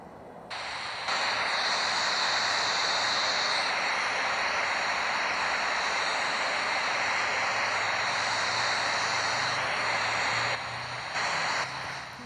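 Steady jet engine roar with airflow hiss as an airliner taxis toward the runway in the Infinite Flight game, a continuous loud drone fading in at the start and holding throughout.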